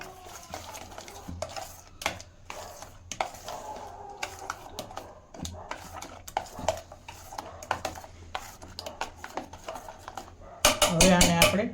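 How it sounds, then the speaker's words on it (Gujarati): A spoon scrapes and clinks against a bowl while stirring khaman dhokla batter with salt, a steady run of small metallic taps and scrapes close by, ending in a louder burst of clatter. "હવે આને હલાવી લેશું."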